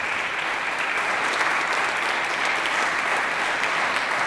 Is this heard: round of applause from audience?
yes